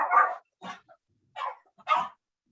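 A pet dog barks in a home during an online meeting, four short sharp barks at irregular intervals, moderately loud and close, with silence between them.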